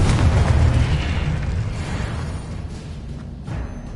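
Explosive spell cast in the video game Hogwarts Legacy on PS5, a deep rumbling boom that swells at the start and slowly decays, with a smaller burst near the end.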